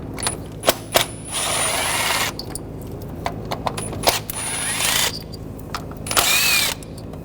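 A 10mm socket wrench ratchets bolts out of a 2014-2020 Nissan Rogue 2.5L valve cover, quick clicking runs and metallic ticks up close, interrupted by sharp taps and short pauses, with faint high squeaks.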